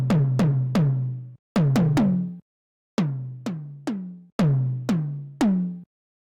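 80s-style synth toms run through an analog clipping distortion, played as fills of quick pitch-dropping hits with short thick decays, grouped in bursts separated by brief gaps, loud and upfront.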